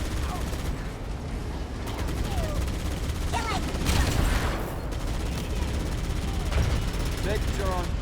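Gunfire in a Halo video game battle: sustained close machine-gun bursts and fusillades over a dense rumbling battle bed, with a soldier's shouted radio chatter and high whistling effects layered throughout.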